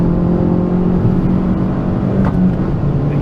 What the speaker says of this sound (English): Exhaust pop, awesome car.